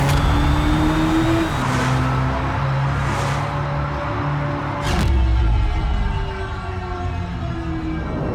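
Hyundai IONIQ 6 N high-performance electric car accelerating with a loud, sustained synthetic engine roar that climbs through simulated gear shifts, with a sharp surge near the middle before settling into a steady drone.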